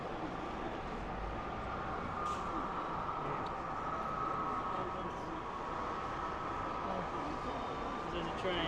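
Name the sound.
model railway train running on an exhibition layout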